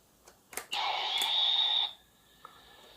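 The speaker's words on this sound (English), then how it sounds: "It is making some weird static sound." A Kamen Rider Ryuki Odin GoldImmortal sound-and-light toy belt lets out a loud burst of hissing static lasting about a second, preceded by a few clicks and followed by a faint lingering tone.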